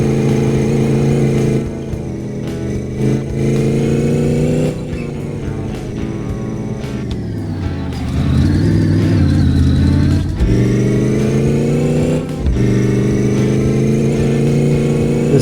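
Dodge Charger with a stock 340 engine in the video game My Garage, revving loud and close through several gear shifts, pitch climbing and dropping with each change, a steady droning tone between shifts.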